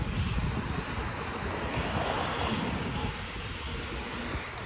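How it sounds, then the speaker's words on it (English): A propeller airplane drones loudly overhead near an airport in Hawthorne, at 120th Street and Crenshaw Boulevard, with a broad, rumbling roar that eases slightly toward the end. "You could hear the planes right here."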